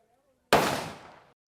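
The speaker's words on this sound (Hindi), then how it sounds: "बस ट्रिगर दबाया और गोली चली। Single shot fire." Single gunshot fired on an Indian Army officers' training range: one sharp, loud report that starts abruptly after near silence and rings out in a reverberant decay lasting almost a second.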